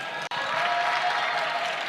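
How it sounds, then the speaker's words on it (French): A conference audience applauds, a dense, continuous wash of clapping with one brief dropout near the start. "vous pouvez aussi l'applaudir pour ça"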